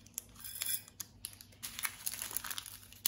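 Small plastic sachets are torn open by hand without scissors, giving a quiet run of crinkles and short ripping bursts close by, with no talking.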